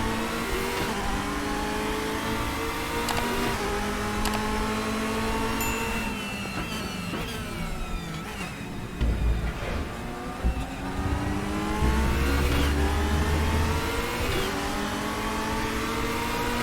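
A McLaren race car engine in the RaceRoom sim revs up and down repeatedly, with rising and falling pitch sweeps as gears change, running loud and continuous with a brief tire squeal.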